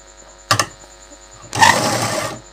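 An electric sewing machine stitches the leg of a narrow straight salwar: a brief double stutter of the needle, then a steady whirring run of under a second over a low background hum.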